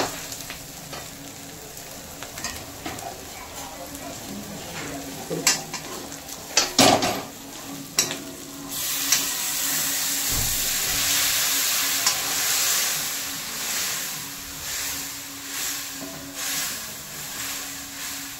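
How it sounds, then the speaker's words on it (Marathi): Water from a heated pot is poured into a hot pan while cooking soybean chilli, first bursting into a loud sizzle amid metal scrapes and clanks of stirring, then settling into a steady bubbling simmer. "ते पाणी आपण आता याच्यामध्ये सोडून द्यायचं आहे"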